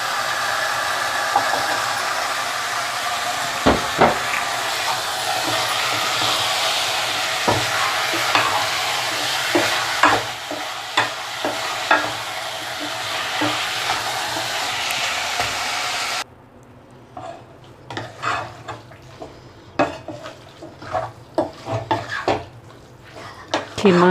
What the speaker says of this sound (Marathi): खिमा आणि बटाटे छान मिक्स करून घेतलेले आहेत